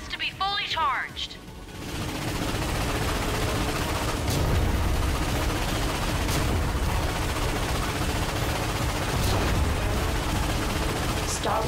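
A steady, loud barrage of weapon fire from a defense ion cannon in Ratchet & Clank rumbles on without pause, heavy booming shots mixed with rapid bursts in a thick battle soundscape.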